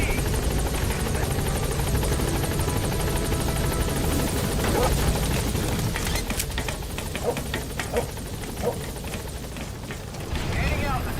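The B-Quad helicopter in Metal Gear Solid V flying toward a landing zone, its rotor a loud, continuous thudding roar throughout, easing slightly toward the end.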